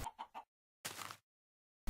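Chickens in the video game Minecraft give short clucks: a quick triple cluck, a longer squawk, then another brief cluck, close and clear against silence.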